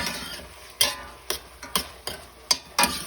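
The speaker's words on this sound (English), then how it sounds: "I want to cook it a little bit longer to get those onions just a little bit more caramelized" Onions cook in a pan for rice and tomatoes under a soft steady sizzle, broken by six or seven sharp clacks of a utensil stirring against the pan at irregular intervals.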